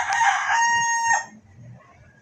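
A rooster crows once on a farm where chickens and pigs are kept, a loud drawn-out call lasting about a second and a half before fading into faint background noise.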